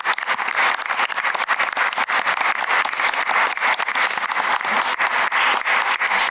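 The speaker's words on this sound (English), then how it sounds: "if we could give a round of applause to all of our frontline staff" A room at a school board meeting breaks into loud, dense applause for frontline staff, continuous and close throughout with no talking over it.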